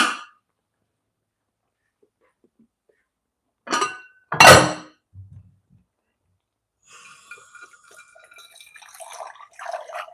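A covered Pyrex glass baking dish is handled with a couple of sharp clinks and knocks near the middle, followed by scattered lighter rattles and scraping of glass and lid; otherwise quiet, no talking.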